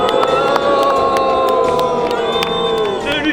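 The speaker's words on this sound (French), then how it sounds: "Une bonne main d'applaudissements pour Tablex." A crowd cheering and shouting for a performer at a popular-theatre sit-in protest, lively whoops and voices layered over one another, loud and close, with some bright sustained tones running underneath.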